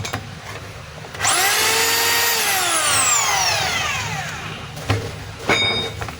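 A DeWalt D25032 rotary hammer spins up in drill-only mode without hammering, a loud close motor whine that rises then slowly winds down, followed by a couple of short clunks.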